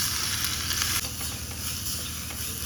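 Spice masala hits a hot pan while making spinach and potato paratha filling, giving a loud, dense, continuous sizzle with a brief burst of extra crackle near the start.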